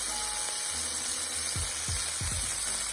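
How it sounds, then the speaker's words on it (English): A steak sizzles in a hot pan as butter is spooned over it, a steady bright hiss throughout with a few soft low knocks from the spoon toward the end. "Now to baste the steak, what you're going to do is you're going to throw a spoon of butter"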